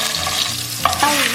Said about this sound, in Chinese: 锅中倒油，加入葱姜炒香